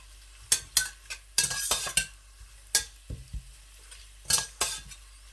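Dry spices and cumin stirred in a cooking pot for black chickpea rice, a series of scraping, rattling strokes of a spoon against metal with faint sizzling underneath, close and fairly quiet.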